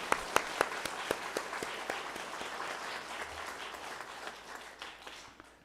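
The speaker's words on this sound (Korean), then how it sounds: "우리 다시 한번 감사의 박수 한번 할까요?" A church congregation claps in thanks during a Thanksgiving service, a steady mid-distance round of applause with a few sharp near claps early, fading slightly toward the end.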